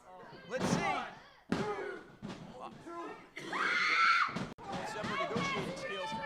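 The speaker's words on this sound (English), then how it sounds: "Slams him down with a leg drop." A wrestler slams an opponent down with a leg drop during a professional wrestling match, a sharp thud landing among crowd noise and screams while commentators talk throughout.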